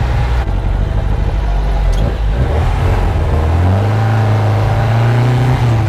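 A 1974 VW Super Beetle with a 2054cc stroker engine driving, a loud close air-cooled engine drone that rises in pitch as it accelerates, over steady road and cabin rumble.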